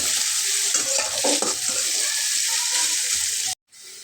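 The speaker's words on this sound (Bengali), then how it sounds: "পেঁয়াজটাকে আমি একটু হালকা ভেজে নেব।" Three medium onions, finely chopped, fry lightly in a pan with steady sizzling and stirring scrapes, ending abruptly in a brief silence.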